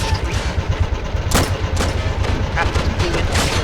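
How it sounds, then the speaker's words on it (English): Battlefield gunfire in the Plastic Army Men game crackles in a dense, loud string of sharp bangs over low rumble, with several louder cannon-like reports standing out while a voice talks throughout. "I'm actually going to get this cannon lined up and fire down infantry"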